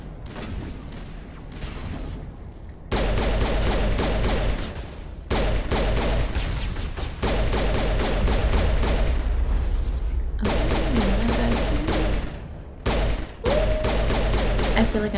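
Sustained automatic gunfire in the video game Mass Effect, dense rapid bursts firing almost continuously with brief gaps, loud and close, alongside game sounds.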